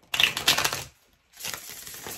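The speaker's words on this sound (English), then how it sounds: "So my guide is saying let's do three more shuffles, bridges as we call them." A deck of tarot cards is bridge shuffled, giving two quick bursts of fluttering, riffling clicks separated by a short pause, close and fairly faint.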